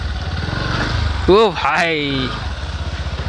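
A motorbike engine revs and idles off-road beneath a bridge near a river, its throaty putter rising sharply in a couple of bursts while someone talks over it close by.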